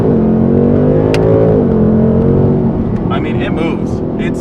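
Car engine revving up to around 4,000 RPM, a loud steady drone that rises in pitch and then settles, with a person talking over the end.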